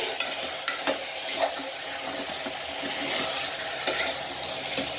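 Vegetables for veg pulao are stirred as they fry in a pan, giving a steady close sizzle with occasional scraping clicks of the spoon, with no talking.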